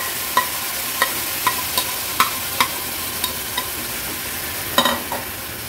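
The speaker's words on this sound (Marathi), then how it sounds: "आता हे सर्व इन्ग्रेडियंट्स आपण थोडेसे तेलावर असे परतून घ्यायचे। परतून झाले की स्वच्छ धुतलेले हे मूग ऍड करूया।" Ingredients and washed mung beans being sautéed in oil for a no-onion, no-garlic vegetarian thali, heard as a soft steady sizzle broken by regular spoon taps against the pan, roughly one every half second, with a louder scrape near the end.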